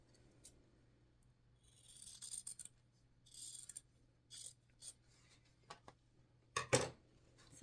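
Scissors snipping through fabric for a handmade scrunchie, a few short crisp cuts in quick bursts followed by a sharper louder snip near the end, close and fairly quiet in a still room.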